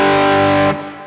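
Sustained distorted electric guitar chord through a CABZEUS speaker simulator's British Type 1 cabinet setting, with a rich amp-like tone, ringing loudly then abruptly dropping to a softer decaying tail.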